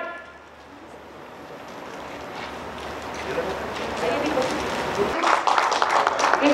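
Applause from an audience at a Jharkhand government ceremony honouring rescued young women, a dense wash of clapping that swells steadily and grows louder and brighter toward the end, with no talk over it.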